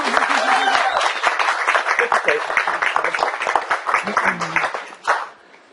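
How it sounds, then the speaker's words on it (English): Sustained audience applause at a startup event's CEO interview, dense clapping from a crowd filling the room, steady and loud before tapering off near the end with a brief final burst. "So I'd like to everyone give her a rousing round of applause."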